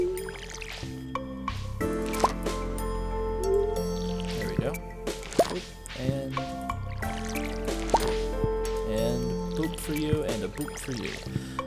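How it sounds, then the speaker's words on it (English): Water sloshing and dripping as a watering can fills at a pond in the Stardew Valley farming game, a few bright liquid blips over a steady music bed with a voice talking throughout. "let's go fill up on water"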